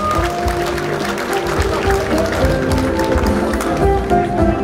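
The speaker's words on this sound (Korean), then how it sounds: "큰 박수 부탁드리겠습니다" Audience applause at a biennale opening ceremony as a sculptor receives an award, a steady wash of clapping throughout with a voice speaking over it.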